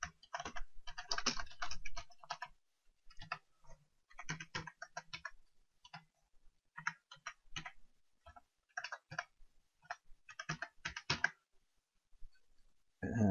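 Credit card details are typed on a computer keyboard, quick bursts of close, crisp key clicks with short pauses between groups, alone and fairly quiet.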